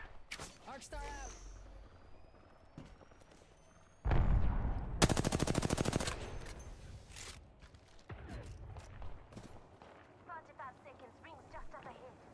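Rapid automatic gunfire bursts from a battle royale video game, one loud close burst standing out mid-clip amid scattered distant shots, with players talking over the action.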